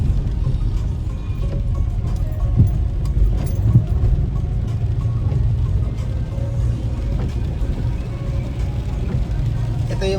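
A car speeds past on a Riyadh road in heavy rain. A steady low rumble of engine and tyres on wet pavement runs throughout, with a broad wash of rain noise and no clear distinct pass-by peak.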